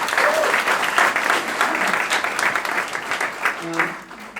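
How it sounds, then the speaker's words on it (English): Audience applause fills a room at an awards night, loud and sustained, a dense wash of clapping hands that tapers off near the end as a voice begins. "I think they all again deserve a big round of applause"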